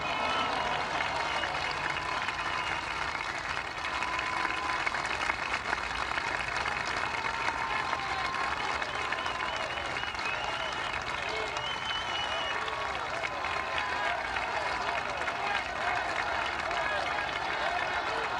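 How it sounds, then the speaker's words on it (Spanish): Audience applause for Mexico's Armed Forces during a presidential speech, a dense, steady wash of clapping from a large crowd that holds evenly for the whole stretch without letup. "les pido que les brindemos un fuerte aplauso a las Fuerzas Armadas de México"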